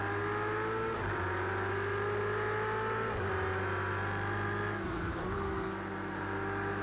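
Race car engines roar in Project CARS during a close battle with a Porsche, a steady loud high-revving drone that dips briefly at gear changes around corners, continuous throughout with no talking.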